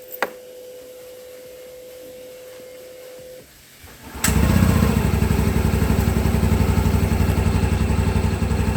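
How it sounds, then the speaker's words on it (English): A click and a steady electronic tone from iTouch Silent Start, a brief pause, then a TVS Jupiter ZX Disc scooter engine catches and settles into a loud, even idle that runs to the end. "Now let us start the ride by switching on engine with new iTouch Silent Start."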